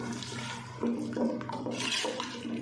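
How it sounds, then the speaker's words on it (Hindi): Water splashes and gurgles as it is poured into a cooking pot of taro and meat curry, in a couple of bursts with a faint hum in the background. "अब साथ डाल देंगे पानी।"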